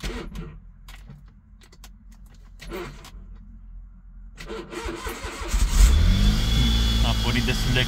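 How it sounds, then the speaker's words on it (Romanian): A car engine with a weak, failing battery cranks with difficulty through several strained attempts, then catches and settles into a loud, steady idle close by. "A pornit destul de greu, probabil că e și bateria pe ducă."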